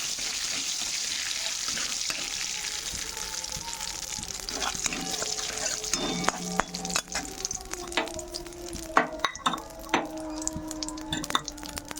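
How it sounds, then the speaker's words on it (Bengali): Dried red chili crackling in hot oil while tempering, a steady close sizzle with scattered pops and clinks of stirring, joined late by sharper bursts and faint tap-water sounds. "তেলে এবার ফোড়ন দিয়ে দেবো, দিচ্ছি শুকনো লঙ্কা একটা"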